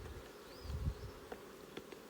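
Honey bees buzz quietly and steadily during a varroa mite alcohol wash, a close, faint drone with a few brief louder pulses as individual bees move about.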